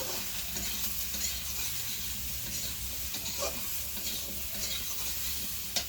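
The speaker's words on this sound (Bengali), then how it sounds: "হলুদ গুঁড়ো দিয়ে আবার নাড়াচাড়া করে" A Bengali fish curry with tomato and turmeric is stirred in a pan, a continuous sizzle with scraping spatula strokes and small clinks throughout, close and steady, no talking.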